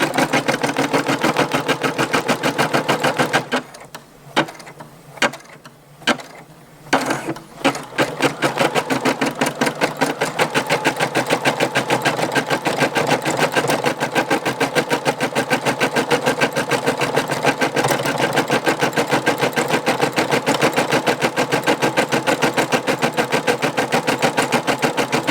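A Brother SE625 embroidery machine stitches an iron-on patch with a rapid, steady mechanical chatter that runs loud and continuous, briefly pausing and stuttering before resuming its even rhythm.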